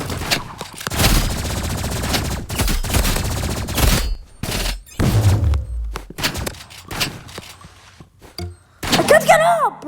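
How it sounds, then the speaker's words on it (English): Shotgun fire rings out in rapid bursts in a video game, loud booming blasts spaced irregularly with short gaps between them, while a player talks over the shots. "That shotgun spam."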